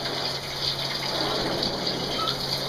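A heavy, steady gush of water pours over a person wearing a thick vest, a dense continuous rushing hiss at close range, with no voices.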